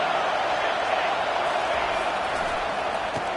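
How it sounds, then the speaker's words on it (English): Football stadium crowd on a third-down defensive stand, a dense, loud, continuous roar that fills the space without letup. "Decibels rising as the crowd gets behind this defense on third down."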